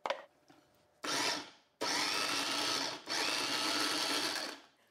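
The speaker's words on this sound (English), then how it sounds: "The first thing I'm going to do is grate my tomatoes. I'm actually going to do that in a regular blender." Tomatoes are grated in a regular kitchen blender, which whirs in a steady, dense motor roar across several long bursts separated by brief stops, close and loud with no talk.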